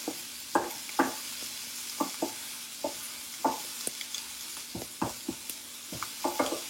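Onion, green chillies and curry leaves fry in a pan for masala dosa filling, a continuous soft sizzle broken by frequent close spatula taps and scrapes at an irregular pace, with no talking.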